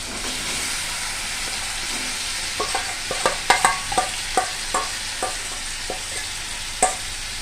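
Turmeric-and-spice-marinated chicken sizzles in a pan with a soft continuous hiss, while a series of sharp spatula scrapes and clacks punctuates the middle and later part.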